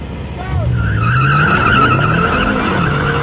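A Mercedes E63 AMG S, a BMW M6 Gran Coupe and a Jaguar XF launch off the line together: loud engines rev and climb in pitch through the gears, with tire squeal and skidding over a steady, close roar.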